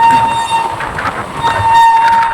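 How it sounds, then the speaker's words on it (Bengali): The Ganadevta Express from Howrah to Azimganj rolls along loudly with a steady rumble of wagons over the rails, and a sustained train horn tone sounds through much of it, close and without talk. "হাওড়া আজিমগঞ্জ একশো তিরিশ সতেরো গণদেবতা এক্সপ্রেস ট্রেনটা মোট পাঁচটা জেলা কভার করে"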